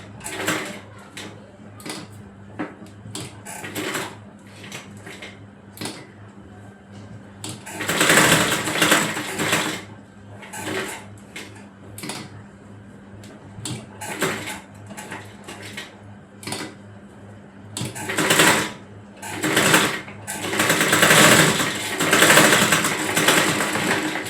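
A sewing machine stitches a girl's frock in repeated short bursts of rapid whirring. Quieter pauses and handling sounds fall between the runs, with some longer, louder stretches of stitching later on.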